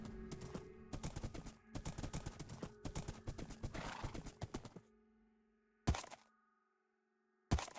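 Horse hooves clip-clopping in Minecraft, a rapid run of hollow knocking steps for several seconds, then two isolated louder thuds after pauses, with a brief whinny-like tone in the mix.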